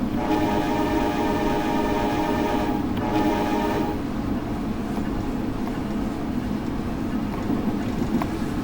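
An Amtrak Northeast Regional train in Train Simulator 2021 rolls into the New Carrollton platform at about 30 mph, a steady rumbling hum with tonal whine that fades partway through, no talk.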